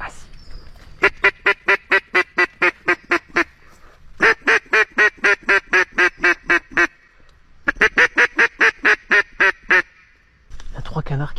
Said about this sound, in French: Il y a une canne colvert qui arrête pas de chanter 200 mètres plus haut.